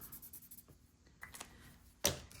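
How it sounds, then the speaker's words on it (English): A pen scratches a quick mark across a paper list, a short soft scribble near the end following faint rustling and handling noises in a quiet room. "Let's go ahead and mark that off"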